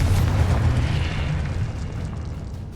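Confringo blast spell going off in the video game Hogwarts Legacy, a loud booming explosion with a deep rumble that decays slowly over a couple of seconds.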